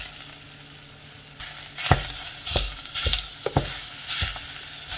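Steaks hit a hot pan alongside browned onions and carrots, sizzling steadily, with a series of sharp clatters and scrapes from turning and stirring layered over the frying.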